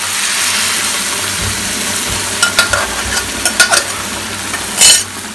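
Boiled dal being added to spices in a pan, with a soft background sizzle and then several clinking scrapes of a spoon stirring, ending in one louder clatter.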